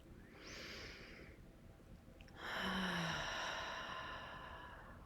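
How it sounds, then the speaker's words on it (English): A person breathes slowly and deeply during guided yoga nidra relaxation, with a soft inhale early, then a longer, louder exhale or sigh; quiet and close, with no talking. "Take some breaths"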